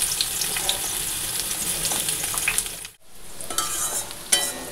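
Spiny gourd sizzling in hot oil in a wok, a continuous close crackle that drops out briefly midway before the frying hiss resumes, with occasional sharper pops.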